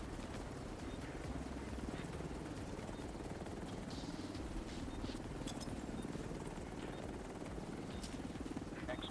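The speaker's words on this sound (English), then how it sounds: "Helo is on site." A helicopter arrives for extraction in The Division 2 video game, its steady rotor thrum droning continuously at a moderate level under background game noise, with a voice talking.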